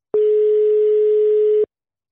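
Telephone dial tone after a call is hung up, one steady loud continuous tone lasting about a second and a half, alone with no talking.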